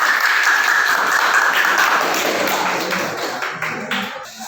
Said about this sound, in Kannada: ನವೀನಂಗೆ ಒಂದ್ಸರಿ ಜೋರಾದ ಚಪ್ಪಾಳೆ